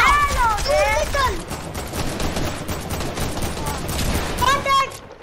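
Gunfire rattles in Fortnite Battle Royale as loud, rapid bursts run through the whole clip, mixed with tonal game effects at the start and end.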